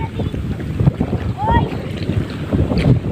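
Strong wind on the Jamuna river buffets the microphone in heavy, continuous rumbling gusts, with a choppy low wash of waves around a small fishing boat.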